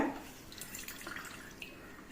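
Whey drips from homemade paneer wrung tight in a cloth strainer, making soft scattered patters and trickles close by that are quiet and irregular, with no voices.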